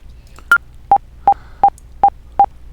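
Six sharp, evenly spaced clicks tick at a steady tempo, close and clear, with the first one slightly higher in pitch and nothing else around them.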